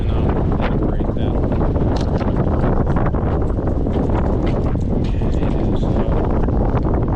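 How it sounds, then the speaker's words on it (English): Loud, constant wind roars across the microphone during an autumn bike ride near a river dam, with a rider speaking briefly over the rumbling buffeting. "as you might can hear, it's rather windy and it's chilly"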